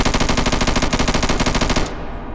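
Fully automatic rifle fire in a VR shooting game, one continuous loud burst of rapid, evenly spaced shots lasting about two seconds before cutting off into a fading tail.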